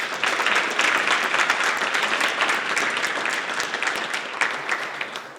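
An audience at a high-level e-mobility panel event applauds the panelists, with thick, sustained clapping from many people, loud at the start and gradually thinning toward the close.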